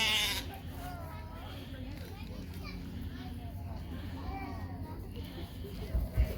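Sheep bleat at a pumpkin patch farm, wavering calls heard amid a noisy outdoor crowd, with children and adults talking throughout.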